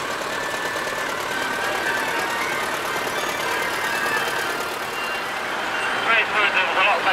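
A vintage tractor drives past at an outdoor show at Duncombe Park, Helmsley, its engine a steady rumbling drone that swells near the end, with faint voices in the background.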